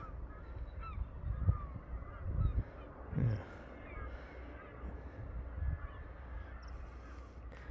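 Scattered bird calls and a few honking geese cries over a low outdoor rumble near Crown Point, Burnley, with a brief voice heard once.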